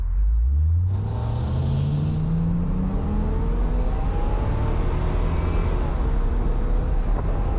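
A deep V8 engine of a 1979 Chevrolet Corvette C3 L-48 with automatic gearbox roars as the car pulls away, its pitch climbing steadily through the gears with a rumbling, throaty drone throughout.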